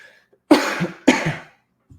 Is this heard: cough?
yes